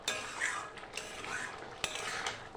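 A metal spoon scrapes and clinks against a pan as freshly cooked aloo dum is scooped into a serving bowl, a few soft taps and scrapes close by with no talking.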